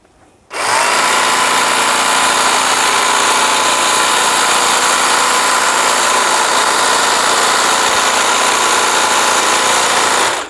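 A Milwaukee cordless string trimmer starts up and runs steadily, a loud, even motor whine with line whirring through grass at close range and no pauses, with no talking over it.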